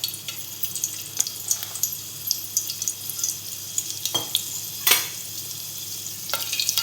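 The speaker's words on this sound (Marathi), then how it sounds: "आता आपण त्यात टाकतो लसूणच्या पाकळ्या" Garlic cloves hit hot oil in a pan for a Marathi egg curry, setting off a steady frying sizzle with repeated sharp spits and crackles, close and continuous throughout.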